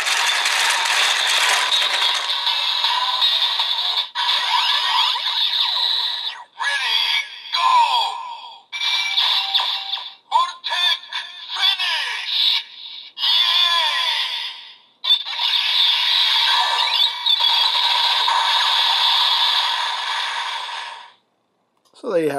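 A Kamen Rider Build capsule toy with Orange and DX Lock Full Bottles plays a loud, busy electronic finisher effect: layered synthetic chimes, whooshes and mechanical clicks with voice-like announcements, broken by brief pauses before ending abruptly.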